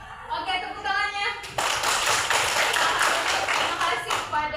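Students in a high school classroom break into applause after a short stretch of voices, with lively, somewhat uneven hand clapping filling the rest of the moment.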